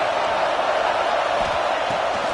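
Football stadium crowd roaring in a steady, dense wash of cheering that holds at one loud level throughout, with no distinct voices standing out.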